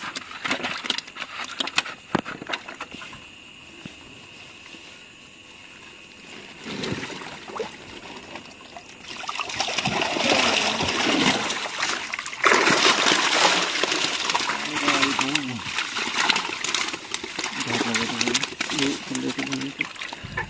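Mrigal carp fry poured into a new 245-decimal pond at night, bursts of water splashing and rushing that grow louder midway and carry on under someone talking nearby.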